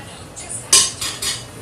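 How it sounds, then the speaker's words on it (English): A cooking pan in a home kitchen is handled, giving a few close metallic clinks and scrapes, one sharp knock followed by two lighter ones, over a quiet room. "we're gonna get this other pan right here"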